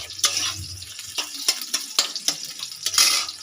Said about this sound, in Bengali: আমি এখানে গাজরগুলো ভাজতে থাকবো